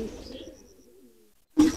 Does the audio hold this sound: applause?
no